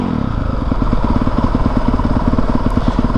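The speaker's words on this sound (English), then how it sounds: "letting my bike warm up a little bit" A 2020 Honda CRF450R dirt bike engine warms up at idle, a steady, loud, close burbling thump with fast even pulses and mechanical clatter, no talking.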